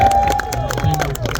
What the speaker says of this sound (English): Round of applause for that, dude.